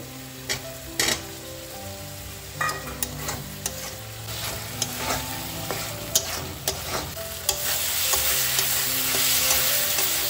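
Chopped tomato going into masala frying in a pan for a Bengali rui fish curry, a steady sizzle under repeated scraping stirs and clinks of a spatula, close and fairly loud.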